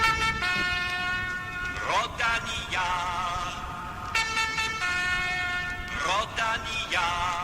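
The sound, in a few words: horn of the Rodania car opening Belgian cycling races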